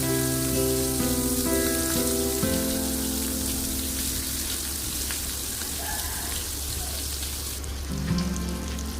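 Mutton shami kebabs fry in hot oil in a pan, giving a steady, loud sizzle and crackle that lasts the whole time, with no talking.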